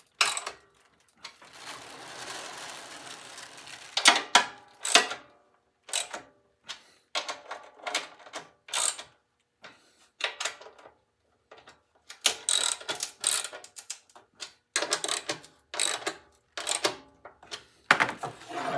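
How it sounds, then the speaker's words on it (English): Bolts being tightened on a Snapper mower with a ratchet: quiet, irregular bursts of clicking pawl strokes and metallic handling, close by, with brief pauses between runs and no talk. "Tighten all these up so I make sure my spacing is correct."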